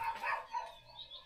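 Several dogs bark at a distance in the old colonial town of Colonia del Sacramento, Uruguay, a few faint, short yaps rising and falling in quick succession.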